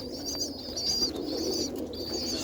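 A roller pigeon cock bird coos close by in soft, repeated throaty calls over a low murmuring background. Other bird chirps and wing flutters add faint texture.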